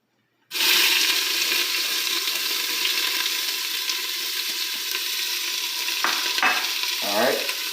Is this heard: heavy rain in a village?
no